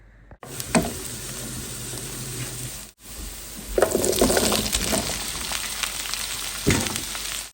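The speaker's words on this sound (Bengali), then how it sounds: "আর এখন হচ্ছে মিক্সিং ভেজিটেবলটা রান্না করব" Mixed vegetables sizzling and frying in a pan in a home kitchen, a steady crackling hiss that swells louder as ingredients are stirred, with occasional clatters and no talking.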